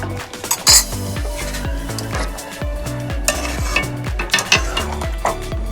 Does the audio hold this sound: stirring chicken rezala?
yes